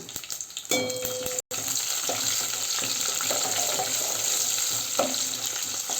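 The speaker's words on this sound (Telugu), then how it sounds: "ఆవాలు, జీలకర్ర, పచ్చిశనగపప్పు, మినప్పప్పు, ఎండుమిర్చి, కరివేపాకు ఇవన్నీ కూడా వేసేసి లైట్ బ్రౌన్ కలర్లో వేగే వరకు వేయించేసుకోవడమే" Mustard seeds, cumin, chana dal, urad dal, dried red chillies and curry leaves fry in hot oil for a bitter gourd curry, a steady close sizzle with a few clinks and a brief break near the start.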